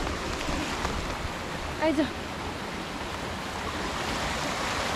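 A river flows through a village, its steady broadband rush continuing without a break for the whole stretch. A brief voice speaks near the middle over the constant water.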